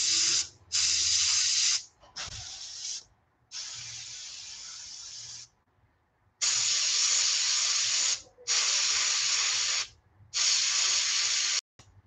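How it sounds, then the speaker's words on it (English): An airbrush spraying sepia water-based paint onto a bullfrog fishing lure, heard as repeated close bursts of hissing spray, each one to two seconds long, separated by short silent gaps, with no talking. "this sepia paint sprays like garbage"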